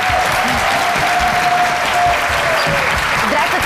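Steady, dense applause from a TV studio audience welcoming a film director onto the show, continuous and fairly loud throughout, with a faint tone and a brief voice-like sound underneath.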